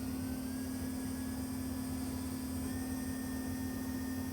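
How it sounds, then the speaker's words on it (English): An electric RC motor driven by a Castle Creations XLX-2 speed controller holds a steady, low, humming whine with a faint higher tone above it, continuous and fairly quiet throughout, with no voices. "Spool the motor up to about 10 volts out"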